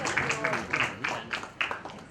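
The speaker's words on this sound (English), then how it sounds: "A huge round of applause to Sagar Patrick" Audience applause for a speaker being introduced at a breast cancer awareness campaign launch, a short burst of scattered clapping lasting a couple of seconds, fairly close.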